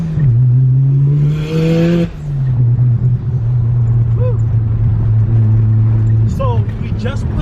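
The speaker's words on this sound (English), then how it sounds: "So I literally have an open wastegate, as you guys can hear." A Mazda RX7 engine with an open wastegate revs hard nearby, a loud, continuous droning roar whose pitch climbs, drops and climbs again.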